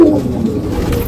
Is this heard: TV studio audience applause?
no